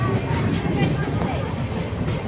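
An Intercity Express train pulling away from Simalaguri Junction, a steady broadband rumble of wheels and carriage noise heard from inside the coach, continuous and fairly loud with faint voices mixed in.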